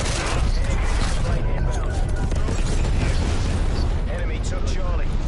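Artillery strike in Call of Duty Cold War on PlayStation 5: heavy rumbling booms and blasts fill the whole stretch, dense and continuous, with speech mixed in over the din.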